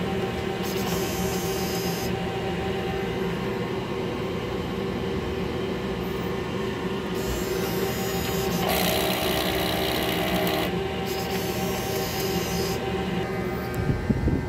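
An ink-tank printer runs its cleaning cycle, giving a steady mechanical whir and hum with sewing-machine-like motor rattle throughout. Brighter grinding passages rise and fall over the span, and no one speaks.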